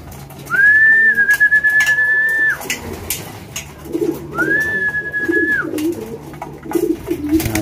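Pigeons call with two long, steady whistling tones, one early and one later, alongside soft low cooing and scattered background noises nearby.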